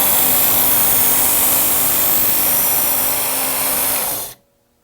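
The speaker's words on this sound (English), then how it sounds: "I'm going to slowly draw the knife through, and I want to stop the sharpener before the tip comes off the belt" A Work Sharp Original belt knife sharpener runs with a loud, steady, hissing grind as a knife blade is drawn across the belt, then cuts off abruptly into near silence.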